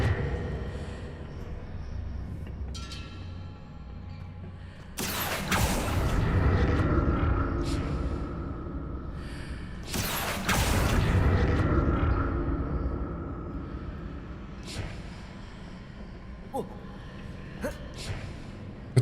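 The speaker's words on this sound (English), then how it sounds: "What did that burst of magic do?" Two loud roaring bursts of a magic spell in a Harry Potter video game, each a sudden broad whoosh that swells and lingers for several seconds before fading, with quieter game sounds between.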